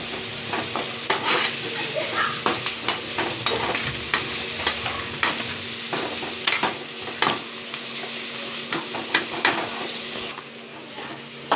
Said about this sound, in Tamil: இப்போ பார்த்தீங்கன்னா வெங்காயம் போட்டு வறுத்துட்ருக்கோம்.